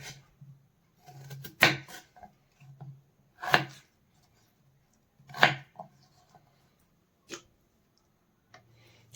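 Vegetables being chopped on a board for potato kabab: a handful of sharp, separate knife strikes spaced a second or two apart, close and fairly quiet, with soft handling noises in between.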